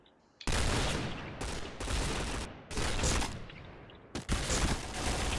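Gunfire in the shooter game Point Blank: loud, dense bursts of automatic fire separated by brief pauses, four rapid volleys in close succession with sharp cracks at their onsets.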